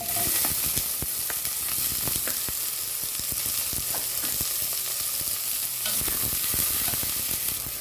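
Tomatoes sauté in a hot pan for a pork rib stew, a loud, continuous sizzle and crackle with scattered sharp pops and stirring scrapes, close up and without talk.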